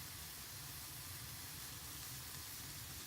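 Gold concentrate drying over heat, giving off a steady, faint hiss of steam that holds evenly throughout without pauses.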